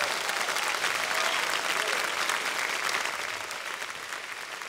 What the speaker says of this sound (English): would you give a round of applause for Brent Jones?